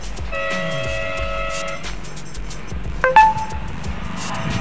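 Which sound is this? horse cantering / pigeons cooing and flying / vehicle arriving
vehicle arriving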